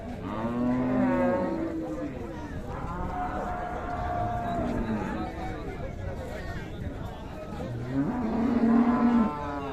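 Friesian dairy cows with calves low repeatedly in long, drawn-out moos at a cattle market in Raniganj, Dinajpur, some near and loud, over a busy murmur of crowd chatter and voices.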